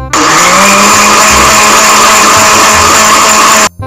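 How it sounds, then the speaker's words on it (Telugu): A kitchen mixer grinder runs in a home, starting abruptly with a loud, steady high whine and motor roar that holds constant, then cuts off sharply just before the end. "కొంపదీసి ఇది మా ఇంట్లో మిక్సీ సౌండా ఏంటి?"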